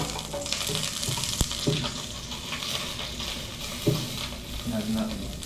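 Garlic sizzling in hot cooking oil in a pan, a steady broadband crackle with occasional sharper pops and clinks of a utensil, heard close with no talking.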